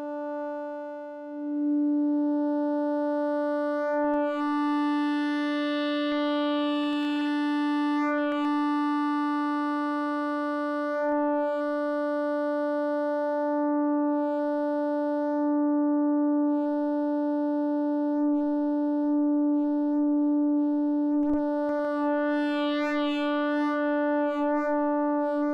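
Sustained Yamaha SY77 synthesizer pad holding a steady, harmonically rich tone for a long stretch, with soft shimmering high overtones drifting in and out.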